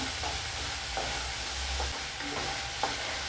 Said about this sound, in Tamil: இப்போ அடுத்து இந்த வெங்காயத்துக்கு கொஞ்சமாக உப்பு போட்டுக்கலாம் கொஞ்சமாக கொஞ்சம் வதங்கட்டும்